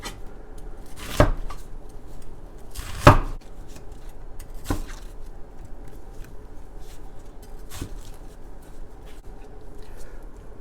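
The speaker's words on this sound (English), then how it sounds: "I'm gonna go with a half and chop it in larger pieces" Knife chopping food into larger pieces while preparing a Japanese beef golden curry: a few sharp, isolated cuts on a board, spaced irregularly, with two louder strokes early on and quiet room tone between them.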